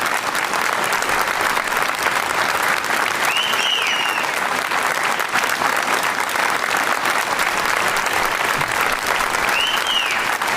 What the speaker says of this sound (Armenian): Ծափերը պահում ենք